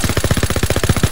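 Rapid machine gun fire in the World War II video game Call of Duty WWII, a loud, close, fast string of evenly spaced shots rattling without pause for the whole moment.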